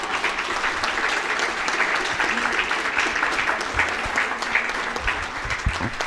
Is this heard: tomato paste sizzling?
no